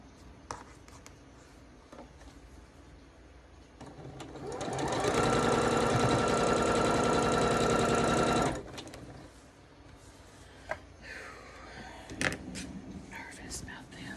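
A sewing machine stitches a Red Dazzle quilt from Pastry Shop Quilts, whirring in one steady run of about four seconds. Before and after it there is soft talk and handling noise.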